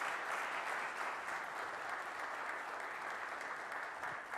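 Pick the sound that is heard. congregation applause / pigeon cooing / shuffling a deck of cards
congregation applause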